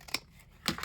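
Scissors snipping through card paper while making a fancy fold greeting card, two quick close crisp cuts separated by a short pause.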